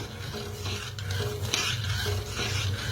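Sugar being stirred in a pan to dissolve into syrup for gulab jamun, a continuous soft scraping and rubbing with a low bubbling hum beneath.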